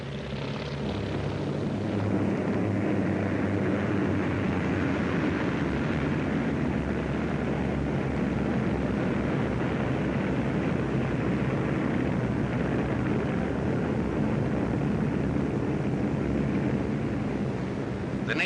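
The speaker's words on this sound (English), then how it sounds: "the swarm of planes in the air" A steady, loud drone of World War II-era aircraft engines roars continuously overhead as a swarm of planes passes, a dense propeller rumble that doesn't fade.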